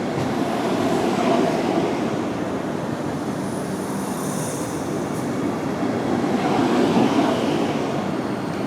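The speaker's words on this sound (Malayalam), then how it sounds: "20634 തിരുവനന്തപുരം സെൻട്രൽ കാസർഗോഡ് വന്ദേ ഭാരത് എക്സ്പ്രസ്" The 20634 Thiruvananthapuram Central–Kasaragod Vande Bharat Express, a 20-car train in Kerala, rushes past with a steady, loud roar of wheels on rail that swells near the start and again toward the end, with no voices.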